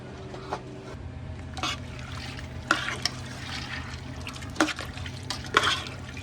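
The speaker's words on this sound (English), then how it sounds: "we're gonna add those to the pot. This was 2 pounds of lentils." Two pounds of lentils are poured into a soup pot of water for spicy lentil soup, producing soft trickling and splashing with a few sharper drips and clinks against a low steady hum, fairly quiet and close.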